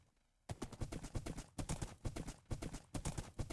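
Horse hooves clip-clopping in the Minecraft video game, a loud, steady run of rhythmic hoof clops that starts abruptly after a brief quiet moment and continues without talk.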